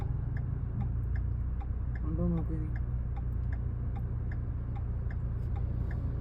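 The right turn indicator of a Ford EcoSport ticks in an even, quick rhythm inside the cabin, clicking softly over the low engine hum while people talk.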